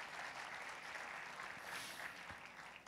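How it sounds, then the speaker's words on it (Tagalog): Church congregation applauding during a Sunday service, a faint, steady wash of many hands clapping together for a few seconds, distant and without any talk over it. "Isa pang malakas na palakpak para sa Panginoon."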